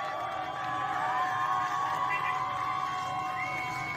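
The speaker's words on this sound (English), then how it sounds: "When the people see the American flag in Iran, they cheer." Crowd in Iran cheering at the sight of the American flag, a steady roar of many voices with a few higher shouts rising over it, loud and sustained throughout.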